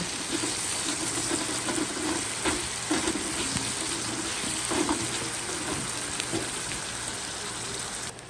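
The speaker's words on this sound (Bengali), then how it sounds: "এখন আমি স্বাদ মতো লবণ দিয়ে দিব এবং আমি আবারও ভালো মতো নাড়াচাড়া করে লবণগুলো মিশিয়ে নেব" Onions frying in a pan with salt while being stirred, a steady loud sizzle with repeated scraping strokes of the spoon throughout, no voices.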